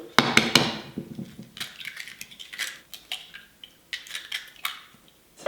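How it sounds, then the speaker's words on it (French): Four eggs are cracked into a bowl, close and fairly quiet: sharp shell taps and clicks come in small clusters with short pauses between them, and no voice is heard. "Dans un bol, je vais mettre mes 4 œufs"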